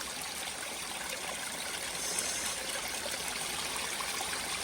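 A natural waterfall stream on a trek near Tandulwadi Fort, Palghar, rushes with a steady broadband hiss of flowing water, close and continuous with no voices.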